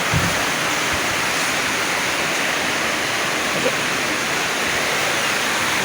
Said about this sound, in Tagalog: hindi ako makalabas kasi ang lakas ng ulan